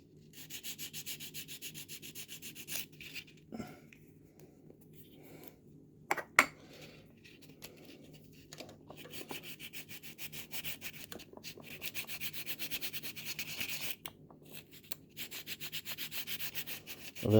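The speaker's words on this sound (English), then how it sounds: "Give that a little bit of a light sand just to flatten it down." A sanding stick is rubbed lightly over a part on a 1/16 scale Tiger 1 tank model, giving soft, scratchy strokes that repeat in an uneven rhythm. The sound is close and fairly quiet.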